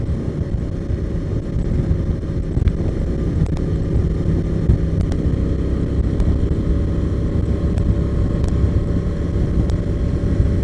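A Honda Transalp motorcycle rides along a road, its engine giving a continuous low rumble mixed with heavy wind rush, steady and close throughout.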